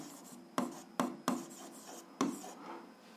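A pen writes out a math solution on paper, several quick, distinct scratchy strokes at close range, quiet between them.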